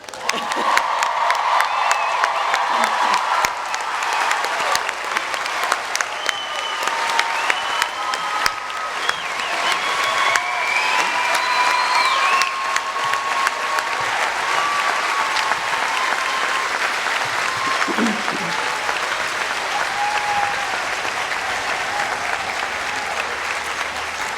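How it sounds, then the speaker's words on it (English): Sustained applause from a large audience at a college commencement ceremony, steady and dense throughout, with occasional whoops and cheers rising above the clapping. "Now we can applaud."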